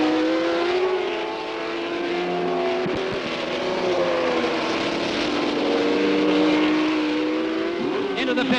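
Racing cars roar past one after another on a wet track at the 1967 Canadian Grand Prix, engines droning and shifting pitch, with a steady hiss of spray beneath and a commentator talking over it.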